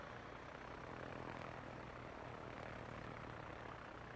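Torpedo planes flying in a naval battle video game, a steady propeller-engine drone sustained throughout, faint and even with no talking.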